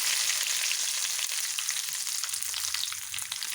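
Curry leaves are dropped into hot coconut oil with popped mustard seeds for a lentil and drumstick-leaf curry, giving a loud, steady, close hiss and sizzle that continues throughout with no voices.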